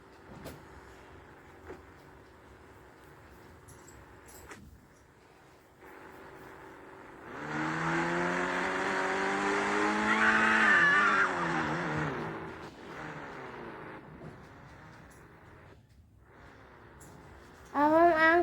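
Engine sound from a car in the Indian Bike video game rises into a louder revving surge midway, with a sharp burst at the end, steady game audio without talk.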